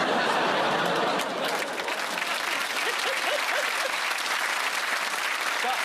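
A studio audience on a British comedy panel show breaks into loud, sustained applause mixed with scattered laughter, a dense wash of clapping that holds steady for several seconds.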